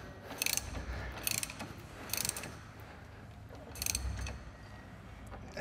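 Ratchet wrench cranking down a bolt during suspension work on an S550 Mustang GT350, four quick bursts of rapid clicking spaced about a second apart, faint and close with no speech.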